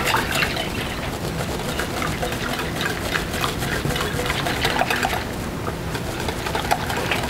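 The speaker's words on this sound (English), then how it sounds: "add your warm water to a bowl and whisk in your garbanzo bean flour a little bit at a time" Garbanzo bean flour being whisked into warm water in a bowl, a steady busy scraping and sloshing with dense rapid strokes throughout, moderately close with no talk.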